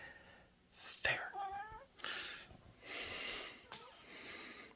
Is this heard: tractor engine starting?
no